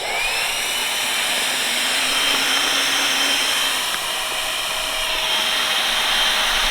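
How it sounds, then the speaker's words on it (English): A Flextail Max Pump 3, a compact electric camping pump that doubles as a lantern, inflates an air mattress with a steady, loud motor whir and rushing airflow. The whine holds constant from start to finish with no voices. "This is the Max Pump 3 by Flextail. This thing is a beast. It's a pump as well as a lantern."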